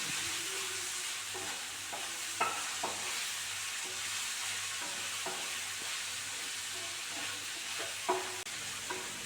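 Onion, tomato and curry leaves for a fish curry sauté in a pan with a steady, soft sizzle, while a spoon scrapes and stirs in occasional light knocks close by.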